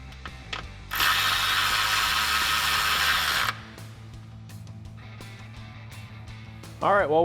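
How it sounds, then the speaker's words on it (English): An 8mm socket ratchet clicks as it backs out a bolt in the engine bay of a 2018-2020 Ford F150, a loud continuous ratcheting burst for a few seconds between quieter clicks and handling noise. "I'm going to pull this bolt out with an 8mm socket"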